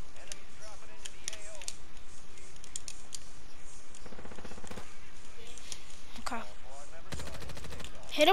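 Burst-fire weapons shoot in an online shooter game, with several separate rapid bursts of gunfire spread through the clip under a voice speaking over the game audio.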